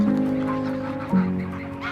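Dark-bellied Brent geese on the Solent estuary give two sustained honking calls, the second starting partway through, fairly close and clear with no talking.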